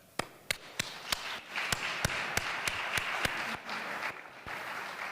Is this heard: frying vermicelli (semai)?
no